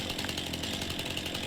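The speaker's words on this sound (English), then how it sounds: "you can use your chainsaw instead of having to get a separate item to do it" A chainsaw in the Farming Simulator video game delimbs a felled tree, giving off a continuous, even, buzzing engine whine at close range.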